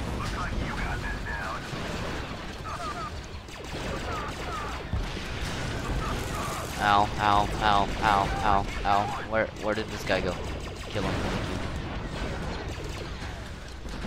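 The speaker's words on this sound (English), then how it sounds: "Pure blaster fire explosions, pure everything." Blaster fire and explosions from a Star Wars Battlefront 2 battle on Thule, with rapid overlapping shots and blasts throughout, loudest in a dense burst midway, under steady talk from a player.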